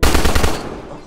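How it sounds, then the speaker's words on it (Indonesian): A short, dense burst of rapid gunfire in a film shootout, loud and close, with several quick shots blurring together before trailing off into echo. "Hingga satu petugas datang dan terjadi aksi tembak-tembakan."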